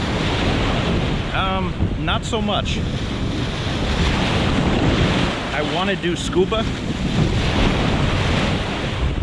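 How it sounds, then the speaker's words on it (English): Loud, steady surf and wind roar across a beach with many waves, the waves breaking close by under strong wind buffeting the microphone while someone talks intermittently over it. "a beach with a lot of waves"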